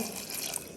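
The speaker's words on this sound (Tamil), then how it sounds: "தண்ணியை விட்டுட்டு" Water pours into a cooking pot for a Jaffna-style curry, a brief, steady splashing gush heard close and alone for under a second.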